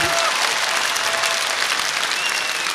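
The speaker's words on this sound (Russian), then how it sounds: "Давайте проводим ее аплодисментами." Steady audience applause fills a large concert hall at a farewell concert in Kyiv, dense and continuous from start to finish with a faint murmur of crowd noise and a few thin whistles or voice traces on top.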